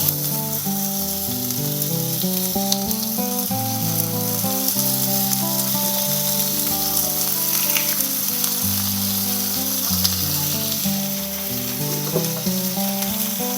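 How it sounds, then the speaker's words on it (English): Pork chops sear in a hot pan for a honey garlic pork chop dish, a steady sizzle heard beneath loud background music that runs throughout. "we're going to sear them for 3 minutes on each side"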